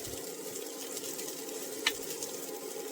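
Hamburger meat and rice, the rice cooked in pork stock, frying in a pan, with a soft steady sizzle throughout and one brief clink of a utensil near the middle.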